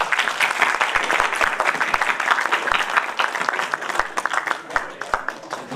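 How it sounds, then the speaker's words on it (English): Audience applause for volunteers at a conference, dense continuous clapping from a large crowd with a few sharper close claps standing out, lasting throughout. "So can I have a big applause to all the volunteers,"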